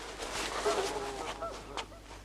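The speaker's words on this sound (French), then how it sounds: "Ce sont des oies que j'ai piégées hier." Several geese honk in quick succession, nasal calls overlapping at close to moderate distance.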